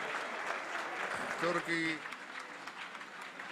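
Crowd at an under-23 world squash championship grand final cheering and clapping, a steady roar of applause with a swell of louder cheers midway, under an excited commentator's voice.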